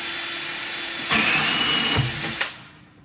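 A drill bores through the glass wall of an aquarium tank, a steady whining grind lasting a couple of seconds with brief surges, then winding down to quiet.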